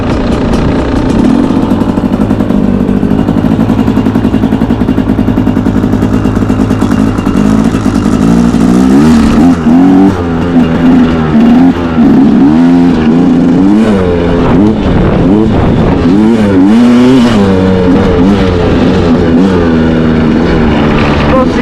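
A dirt bike on studded tires rides through snowy conditions, its engine droning loudly and steadily throughout with rising and falling revs and shifting pitch, close to the rider and with no one talking.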